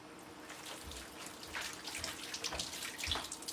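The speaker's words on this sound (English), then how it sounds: "And I'm washing my hands." Tap water runs into a kitchen sink as hands are washed, a soft, steady splash and trickle heard alone at low level.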